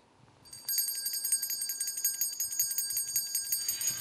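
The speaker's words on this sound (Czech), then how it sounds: "Zazvonil zvonec, pohádky je konec." A bright, high bell rings rapidly and continuously, a steady metallic trill that starts abruptly after a brief quiet moment and keeps going without pause.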